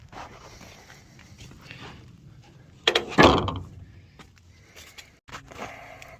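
A hinged wooden lid on a homemade top bar beehive swings open with a loud creak and knock midway, followed by quieter handling sounds and soft knocks.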